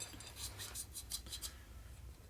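Valve lapping tool twisted back and forth in a 1961 Harley-Davidson FL 74ci panhead cylinder head, a faint gritty scraping and rasping in short repeated strokes, close and quiet.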